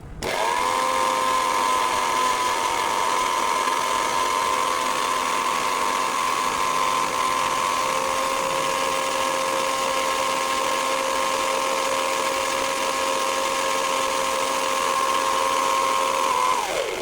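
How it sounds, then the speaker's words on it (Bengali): A mixer grinder jar whirs steadily as it blends mango and sugar into smooth puree, one loud continuous motor whine holding constant for the whole stretch before winding down at the end, with no talking. "কিছুক্ষণ মিক্সিং জারে ঘুরিয়ে নিয়ে একদম স্মুথ ম্যাঙ্গো পিউরিটা প্রথমে আমরা রেডি করে নিচ্ছি"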